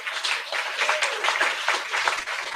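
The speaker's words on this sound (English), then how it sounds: "let's give Neil Cinturi a round of applause, ladies and gentlemen." An audience applauds a speaker at a live-streamed talk event, with steady, dense clapping filling the whole moment at moderate loudness.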